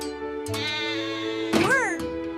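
A cartoon sheep on a farm lets out a loud, wavering bleat near the end, following a steady humming tone and heard over background music.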